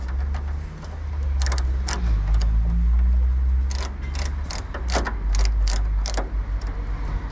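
T20 Torx screws are backed out of the front grille of a BMW E91 with a hand driver, giving repeated short ratcheting clicks in bursts over a steady low rumble.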